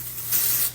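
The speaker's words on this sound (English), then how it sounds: "now I'm gonna utilize some texturizing spray" A short, close hiss of texturizing spray is misted onto wet hair in a single burst lasting under a second.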